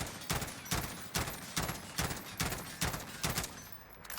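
Rapid bursts of M16 rifle fire during a recoil test in Call of Duty Warzone, about eight evenly spaced three-round volleys cracking loudly and close with no talk.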